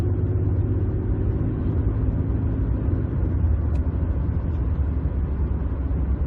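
A 2007-2020 Ford F-150 with a 6R75/6R80 six-speed automatic, hard on the throttle in a high gear: a loud, steady, low engine drone and rumble heard from inside the cab that holds without a break.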